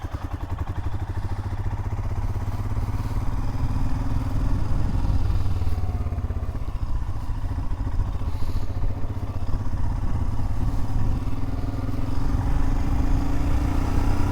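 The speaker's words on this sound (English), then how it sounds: "Got some fellow motorcyclists." Motorcycles rumble past on the Blue Ridge Parkway, a steady mid-pitched engine drone with clatter that swells and fades as the bikes go by, close and loud throughout.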